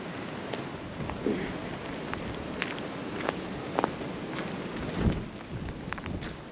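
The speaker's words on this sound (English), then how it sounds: "It's cold, wet and windy." Steady broadband outdoor noise of cold wind and rain in Scotland, with scattered small impacts and drips throughout, fairly close and continuous.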